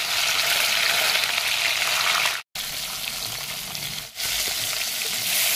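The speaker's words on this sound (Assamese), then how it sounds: "তেলখিনি গৰম হ'ল, এতিয়া এপিচ এপিচকৈ মাছটো দি লৈছোঁ" Pieces of fish sizzle loudly and steadily in hot oil for an Assamese sour fish curry, a dense close hiss that cuts out completely for a moment and briefly dips again before resuming.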